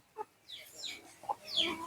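Native country chickens on a farm cluck and squawk close by in short, scattered calls, with a faint voice nearby.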